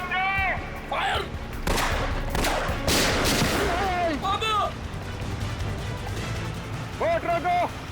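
Gunfire in a Hindi TV crime drama set on an island: a rapid volley of sharp shots and crashes, loud and close, mixed with shouting voices and speech.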